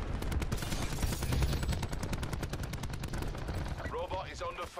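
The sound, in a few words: gunfire in Call of Duty Black Ops 4 video game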